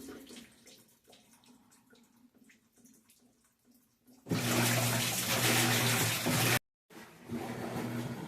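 Low churning and sloshing of water, then a loud surging rush of water that briefly cuts off and resumes, as a faulty Whirlpool WTW4816FW3 washer fills and agitates a load of towels.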